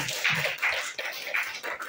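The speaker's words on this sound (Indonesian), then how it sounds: "kasih tepuk tangan untuk kelompok listrik ya" A short burst of hand clapping from a small group of students in a classroom, quick, dense and fairly close, with no talking over it.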